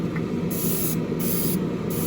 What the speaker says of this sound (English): As you can imagine, I've done a lot of airbrushing.